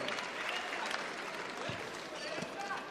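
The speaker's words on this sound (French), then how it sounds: "Changement pour le MSV, applaudissements à Jeffrey Batista." Steady applause from a large crowd at a basketball game fills the whole stretch, a continuous clatter of clapping with some voices mixed in.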